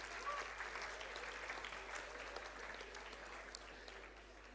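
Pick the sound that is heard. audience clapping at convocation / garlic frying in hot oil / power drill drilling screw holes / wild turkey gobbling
audience clapping at convocation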